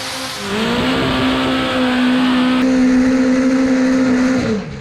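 A pair of multi-cylinder drag racing motorbikes doing a burnout at a Perth drag strip, engines held at a steady, loud high-pitched howl for several seconds before the revs drop away at the end.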